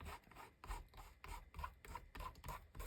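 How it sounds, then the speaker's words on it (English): A finger rubs steadily back and forth over a rubber stamp during card making, giving a soft, close, rhythmic rasp with about eight even strokes and no talking. "I'm going to rub my finger over this rubber stamp"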